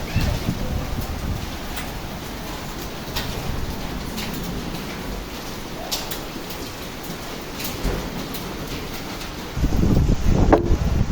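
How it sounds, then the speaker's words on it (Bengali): A hailstorm lashed by wind: a steady, dense rush of falling ice and rain with blustery wind noise buffeting the microphone, swelling louder toward the end. "ওয়াও, বছরের প্রথম শিলাবৃষ্টি।"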